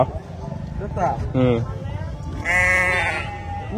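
Sheep bleat several times nearby at a sheep market, one short call followed by a longer, louder one, with people talking and general bustle around them.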